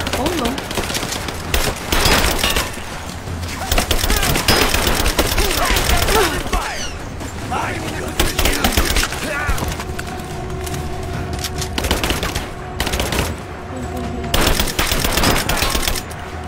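Rapid bursts of gunfire from a combat scene, loud and sustained, with dense overlapping shots and shouted voices mixed in.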